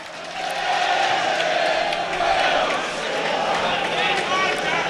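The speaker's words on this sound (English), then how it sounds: "Good crowd in here today," A football crowd at a Grimsby Town match against Nottingham Forest, a steady roar of many voices swelling slightly, heard under continuous commentary.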